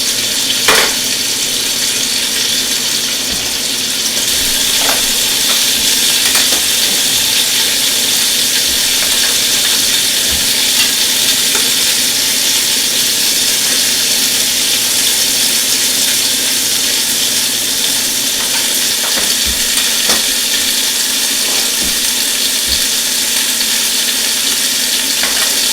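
Meat for birria tacos browns in a hot frying pan with a loud, continuous sizzle, close up, and occasional small pops and clicks over the steady hiss.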